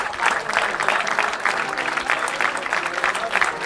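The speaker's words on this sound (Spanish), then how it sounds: "A Gonzo le aplaude toda la grada porque toda la grada ha jugado contra él." Spectators in the stands at a men's Galician league rugby match, CD Zalaeta ATC Arteixo against CRAT Coruña, applaud a player, loud, sustained clapping from a crowd with a faint murmur of voices underneath.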